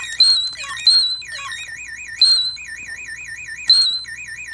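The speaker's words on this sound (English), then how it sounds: "they're cute, cool, computery sound effects, but I've never heard any of them associated with any Space Invaders I've played before" Bleeping electronic sound effects come from a Taito Space Invaders micro keychain game: warbling, wavering tones with sharp chirps recurring every second or so.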